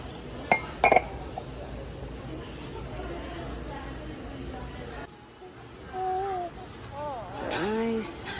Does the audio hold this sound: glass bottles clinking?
yes